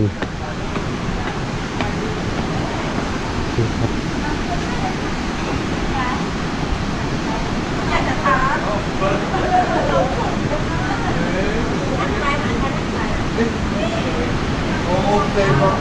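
The Khone Phapheng waterfall in Laos roars as a constant, loud, broadband rush of falling water, with people talking over it the whole time.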